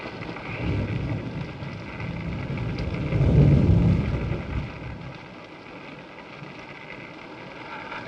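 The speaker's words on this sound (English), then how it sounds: "It's raining." Rain falls in a 1941 black-and-white film, a steady hiss of downpour that swells into a louder rumble partway through, then thins out, with no voices.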